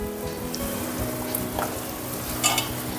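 Onions fry in a pan for a breakfast dish, giving a continuous sizzle with occasional scraping stirs. Close and steady, with a faint tonal hum underneath and no one speaking.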